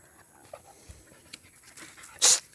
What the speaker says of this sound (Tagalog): Yan yung dalawang aso.